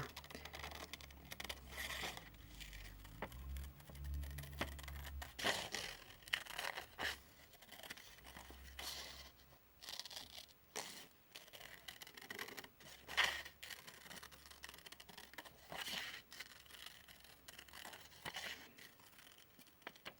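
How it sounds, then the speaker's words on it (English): Scissors cut out a paper bauble for an advent calendar, heard as soft, quiet snips and papery rustles in irregular bursts close by, with light handling noises between cuts. "let's go ahead and cut this bauble out"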